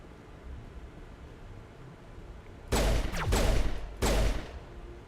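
Sci-fi weapon fire in the Mass Effect video game, with a short burst of loud broadband blasts after a quiet stretch, then a second burst a moment later, close and alone.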